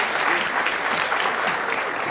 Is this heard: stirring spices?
no